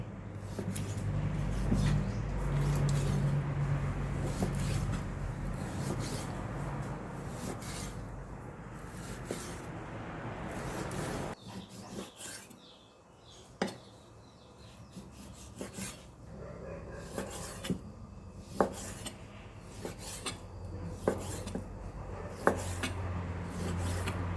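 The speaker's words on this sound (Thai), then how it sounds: "เราจะมาทำการหั่นหมูก่อนนะครับผม" A knife slicing wild boar meat thinly on a board, with soft repeated rasping strokes and occasional light taps, fairly quiet.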